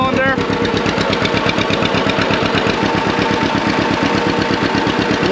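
A John Deere two-cylinder tractor engine runs close and loud, its slow, even pop-pop firing beat thumping steadily throughout with no letup.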